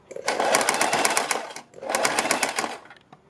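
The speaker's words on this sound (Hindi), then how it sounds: "बिल्कुल इनके ऊपर हम अपने नेक को इस तरह से रखते हैं और तब ये सिलाई लगाते हैं" A sewing machine stitches the neck of a kurti in two fast runs of close, buzzing needle strokes with a short pause between them.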